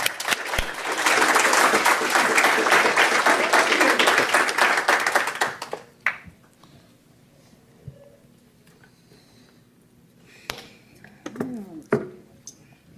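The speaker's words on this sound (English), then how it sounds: "Round of applause for Jen and Jay." A conference audience at a healthcare security talk gives loud, sustained applause for about six seconds before it dies away to a quiet room with scattered small knocks and brief sounds.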